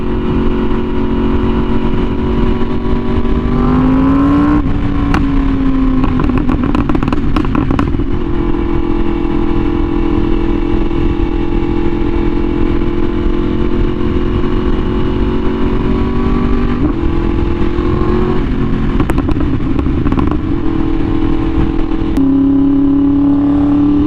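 A Yamaha R1M sport motorcycle being ridden on a chilly day gives a loud, steady engine drone with wind rush, the pitch rising through gear changes and revs throughout.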